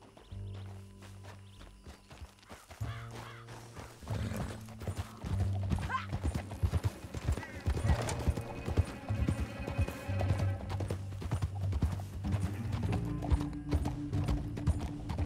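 Horses galloping in the video game Red Dead Redemption 2: steady hoof clip-clop on a rocky canyon trail, close and rhythmic, with an occasional whinny, tack jingling and game music underneath.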